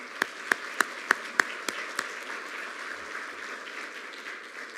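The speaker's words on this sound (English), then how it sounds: "I think he deserves a round of applause, Dr. Burrish" Sparse hand claps at an award ceremony: about seven distinct, evenly spaced claps from a single nearby person over a faint room hum, stopping after two seconds.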